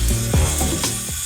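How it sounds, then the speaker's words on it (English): A circular saw fitted with a fiber concrete blade cuts through stone for a stacked stone wall, giving a loud, close, harsh grinding rasp in one brief burst. "When it came down to cutting my stones, I used a fiber concrete blade for my circular saw."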